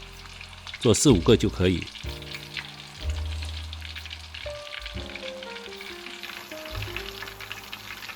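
Meatballs deep-fry in a small pot of oil over medium heat, a close crackling sizzle that flares at first and then settles, under a short spoken remark and soft background music.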